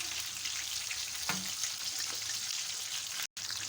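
Fish frying in a pan after being flipped to its second side, a steady close hiss and sizzle of hot oil running throughout with a small pop near the middle and a brief dropout near the end.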